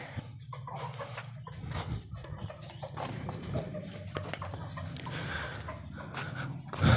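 Roosters and hens cluck in a backyard coop, soft intermittent clucks and calls close by amid rustling and handling noises, with a louder thump at the end.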